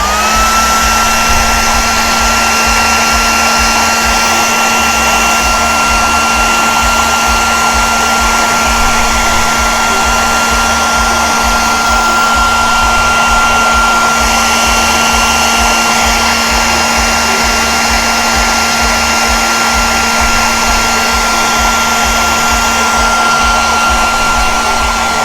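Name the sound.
blow dryer drying a painted miniature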